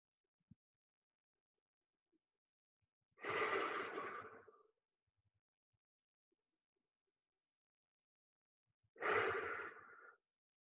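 Two slow, deep breaths drawn during a mindful movement exercise, each a soft airy exhale lasting about a second and a half, close and clear, separated by long quiet gaps with a faint tap at the start.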